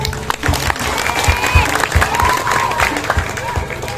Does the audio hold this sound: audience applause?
yes